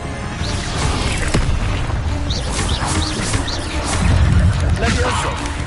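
Expelliarmus spell effect in Hogwarts Legacy: sharp whooshing magical bursts and impact booms, with a voice speaking over the effects.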